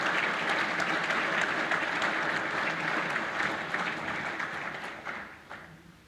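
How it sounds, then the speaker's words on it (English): At a chamber of commerce annual awards meeting, the audience applauds the award recipients with a dense, even round of clapping that gradually thins and fades toward the end. "Let's give them all a round of applause."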